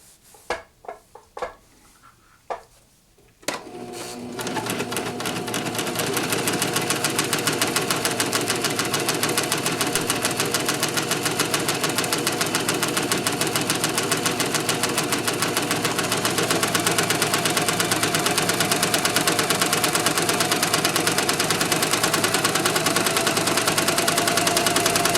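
A Singer Professional 5 serger stitches a cover-stitch seam on a piece of fabric scrap, starting after a few soft handling taps and then running as a fast, steady mechanical whir for a long stretch.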